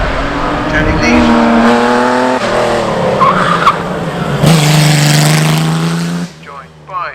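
A vintage racing car at the Prescott hillclimb climbs through the gears with a loud, rasping engine note, revving hard, easing and surging again, before the sound cuts away sharply near the end.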